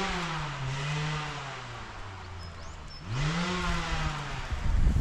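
Car engine revving on a mountain road, two rising surges of acceleration with the pitch climbing and dropping, heard from a short distance amid wind noise.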